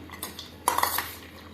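A spoon stirs and scrapes against a metal bowl while mixing lemon poha, a few quick clinks close by, alone without speech.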